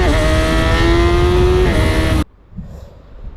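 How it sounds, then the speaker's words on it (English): A Honda CB1000 Hornet SP 1000cc motorcycle engine with a quick shifter drones loudly and close, its pitch dipping briefly as a gear changes, then cuts off abruptly into near silence. "We got also a quick shifter, up and down, guys."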